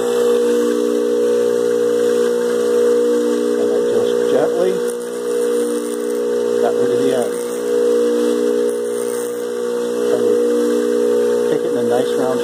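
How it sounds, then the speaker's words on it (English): A bench grinder works a camera UV filter, giving a steady, loud whining drone with a sustained high tone and hiss throughout, while someone talks over it. "turn on the grinder"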